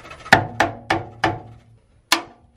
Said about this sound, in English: This is not coming out. Take a hammer to it.